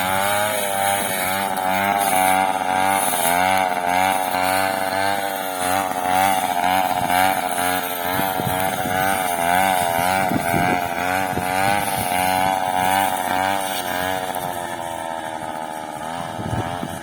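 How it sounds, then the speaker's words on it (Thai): A T200 brush cutter with a converted lower cylinder and single piston ring revs hard and steadily, a loud, close, buzzing two-stroke whine that wavers slightly in pitch and runs continuously without speech. "เร่งนะครับ แบบ สู้กับกอหญ้าใหญ่ ๆ สบายนะครับ"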